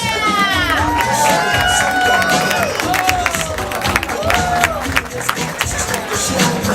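Wedding guests burst into loud, sustained cheering, whooping shouts and clapping, with high whistles cutting through the crowd noise from start to finish.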